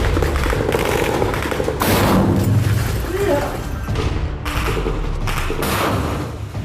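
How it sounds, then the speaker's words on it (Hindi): RPG rockets fired from a ruined rooftop blast into two tanks amid gunfire, heavy booms and thuds recurring over dense, continuous battle noise, with voices mixed in. "खंडहर की छत से इन दोनों टैंकों पर आरपीजी रॉकेट दाग दिए जाते हैं, जिसमें जोरदार ब्लास्ट होता है।"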